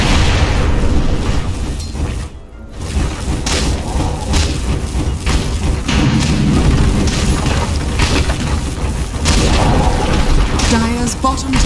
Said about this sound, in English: Dire's bottom tower has fallen. Dire's bottom barracks has fallen.